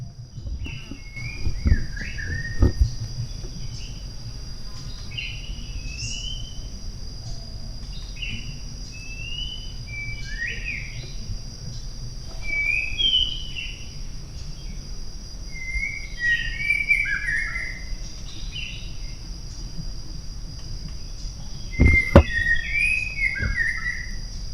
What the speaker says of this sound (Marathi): आपण फक्त शांतपणे ह्या आजूबाजूला निसर्गातून येणाऱ्या आपल्या पक्षी मित्रांचे